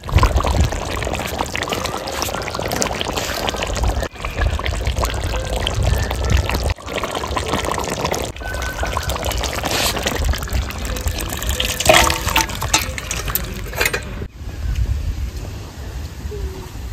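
Desi chicken curry, a country-chicken jhol with whole garam masala, pours steadily out of the cooking pot in a continuous liquid stream lasting many seconds, broken by a few short pauses, with a constant low rumble beneath it.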